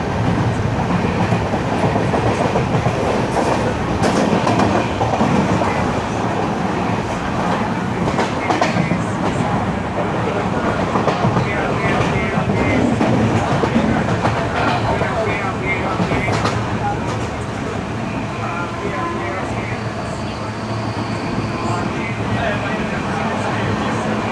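Jan Shatabdi express train running past Angamaly station in Kerala, heard from on board as a loud, continuous rumble with rhythmic clickety-clack from the wheels over the rail joints throughout, with a voice talking over it.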